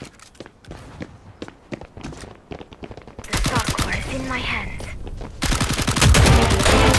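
Gunfire in the mobile version of the shooter Valorant, played on an iPhone 6: scattered single shots and footsteps at first, then dense rapid bursts growing louder toward the end.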